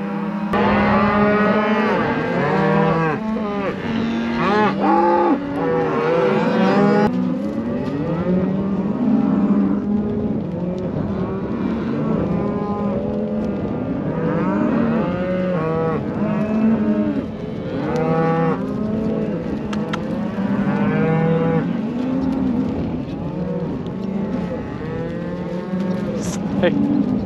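Cattle on a ranch low and moo over and over in a steady chorus, several animals calling close by with overlapping, drawn-out bellows that never let up.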